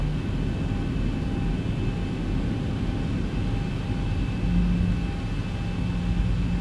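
Boeing 737-700 engines taxiing in X-Plane 11: a loud, steady jet rumble and whine held throughout with no pauses, a faint high tone running above it.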